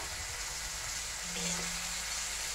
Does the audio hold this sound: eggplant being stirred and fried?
yes